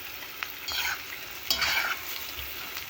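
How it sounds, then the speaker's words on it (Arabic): Onion sautés in hot oil for an eggplant stew, a close, steady sizzle broken by several stirring scrapes and bursts of louder spitting, with no voices over it. "وهنا بديت احمس بصل هم الزيت"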